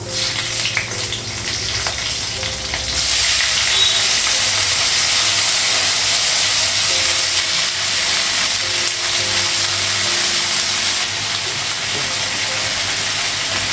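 Fish frying in hot oil on a gas stove, a loud continuous sizzle and hiss that jumps up sharply after a few seconds and stays strong with slight fluctuations.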